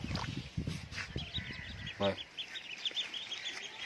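Domestic ducks quack in short, nasal bursts at close range, mixed with other bird calls, while a person talks over them.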